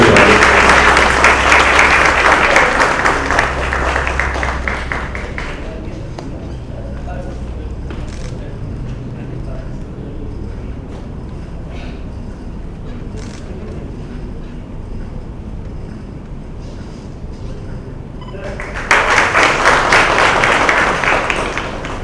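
Audience at an award ceremony applauding, dense clapping that fades out into quieter room noise, then bursts back loudly near the end.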